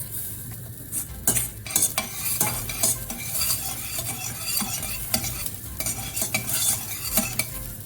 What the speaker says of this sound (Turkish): tereyağımızı tenceremize alıyoruz. Yağımızı eritiyoruz.